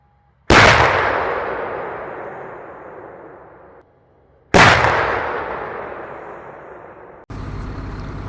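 Two loud artillery blasts from a Finnish-NATO field exercise, each a sharp boom followed by a long rumbling decay lasting several seconds, with a third blast cut off at the end; no talk.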